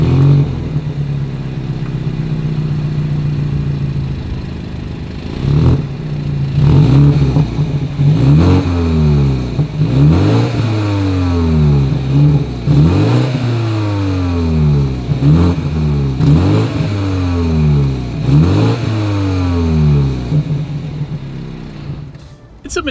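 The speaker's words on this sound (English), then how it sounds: "As always, here is that exhaust clip." A 2020 BMW X3 exhaust revs hard again and again, a deep roar climbing and dropping in repeated bursts, loud and close, with no talking.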